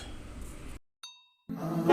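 A subscribe-notification bell sounds as a short, bright ding and rings out briefly in near silence, set between two stretches of low background sound.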